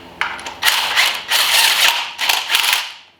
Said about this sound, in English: So I'm going to drive these in, at least the 2 that I know is 15 millimeter.